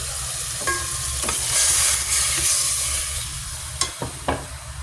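Chicken frying in a pan for Filipino sinampalukang manok, a steady broadband sizzle with occasional stirring scrapes and a few sharp clinks near the end, close and moderately loud.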